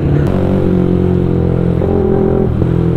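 Yamaha MX King 175cc motorcycle with an HTS 175cc build riding along, its engine giving a steady loud drone with harmonics that rise and fall slightly, continuous throughout with no talk.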